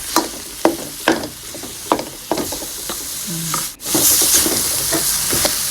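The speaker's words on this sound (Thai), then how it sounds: "แล้วก็ใส่เนื้อลงไปนะคะ" Meat is stir-fried with chopped tomato in a pan, with a steady sizzle under a rhythmic series of spatula scrapes and knocks against the pan, close and fairly loud, with no one speaking.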